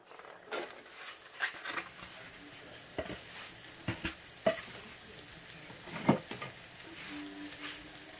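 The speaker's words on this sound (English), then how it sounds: "now I put some oil in my pan. And I add my sliced mushrooms" Sliced mushrooms frying in oil in a pan give a soft, steady sizzle, broken by scattered scrapes and clicks as they are stirred, close by but fairly quiet.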